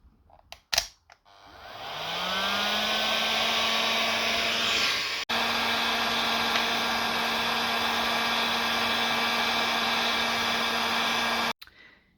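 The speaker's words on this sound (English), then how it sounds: "And then we put the heat shrink over there. And then we take the heat gun." A heat gun blows steadily on heat shrink tubing over wires for a TRX4 Ford Bronco roof rack light install, spinning up with a rising whine into a loud, constant airy roar for about ten seconds, briefly cut once, then clicked off.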